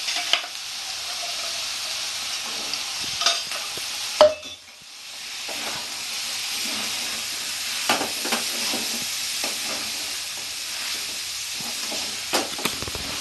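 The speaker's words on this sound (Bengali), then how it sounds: "আমি শুধু কাবলি চানাটা এতে দিয়ে দেবো" Kabuli chickpeas go into mutton keema frying in a pan, Bengali style, giving a quiet, steady sizzle with soft stirring scrapes and a brief clatter of utensils.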